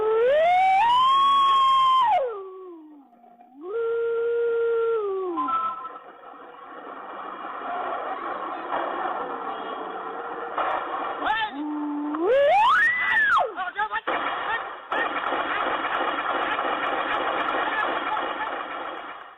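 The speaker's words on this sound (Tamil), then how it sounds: "ஏற்கனவே பதிவு செய்யப்பட்டுள்ள மனிதர்கள் எழுப்பும் ஒலி, ஆம்புலன்ஸ் மற்றும் ஜேசிபி எந்திர ஓசை உள்ளிட்டவை வெளிப்படுகின்றன" A village AI elephant-deterrent system in Kemmarampalayam plays recorded ambulance siren wails, rising and falling loudly, followed by a droning, rattling JCB machine noise.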